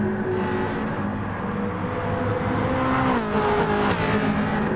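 A pack of Ferrari F40 race cars in GT Sport on the Le Mans circuit through the Porsche curves, sustained loud engine drone with shifting pitch as the cars pass, alone without talk.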